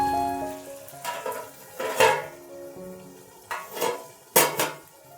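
A spoon stirs chicken kosha in a pan on the stove, giving several distinct metallic scrapes and clanks against the pan at irregular intervals over a faint background hum.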